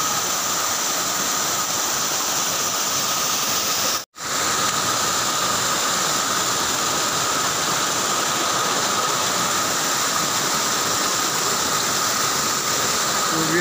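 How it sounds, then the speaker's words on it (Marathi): A waterfall on the Rayreshwar trek pours in cloudy monsoon weather, making a loud, continuous broadband roar. A brief drop near the start interrupts the steady rush. "this is what is the waterfall we saw earlier"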